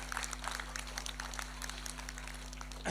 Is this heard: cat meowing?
no